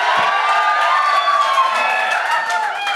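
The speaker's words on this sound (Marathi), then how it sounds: "जोरदार टाळ्या भाई" A live audience at a Marathi comedy and dance show gives loud, sustained cheering and clapping, a dense crowd roar with whoops that holds steady for the full three seconds.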